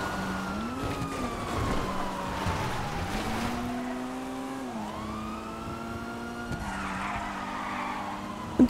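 A stanced car in the GTA V video game revs and whines through e-brake turns, engine pitch dipping and rising as tires skid, with turbo flutter and steady game ambience.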